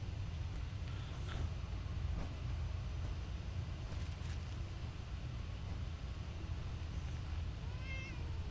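A cat meows a few times inside the Fallout 4 video game, short faint mews over a steady loud background hum of game ambience.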